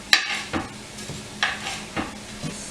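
Food sautéing in a pot for cabbage soup gives off a soft, steady sizzle, broken by a few louder scrapes and clinks of stirring spaced irregularly, close by with no talking.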